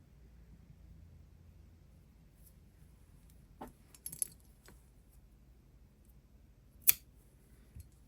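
Scissors snip the yarn tail on a top-down crochet duster cardigan, giving a few faint, isolated metallic clicks against a quiet room background with no talking.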